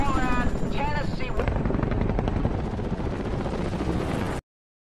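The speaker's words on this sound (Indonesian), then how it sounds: "Dengan menerbangkan 2 helikopter Apache dan dualkopter Chinook, mereka berangkat menuju sebuah titik lokasi" Two Apache and two Chinook military helicopters fly with a loud, steady rotor thrum, with a voice speaking over the start before the sound cuts off abruptly.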